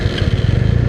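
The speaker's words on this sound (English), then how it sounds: "now that's what I called a super bike exhaust" A Benelli 600i motorcycle with a modified Ixil exhaust: a loud, close, throbbing engine rumble with rapid pulsing beats, briefly heard on its own.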